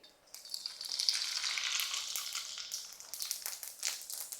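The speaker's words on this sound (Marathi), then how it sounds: "मोहरी अशी मस्त तडतडली" Crackling, spitting pops of mustard seeds sputtering in hot oil, dense and lively at first, then settling into intermittent bursts.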